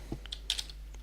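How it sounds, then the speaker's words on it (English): Several quick key taps on a computer keyboard, scattered irregular clicks with short gaps, close and fairly quiet, no voices. "Let's try typing that in"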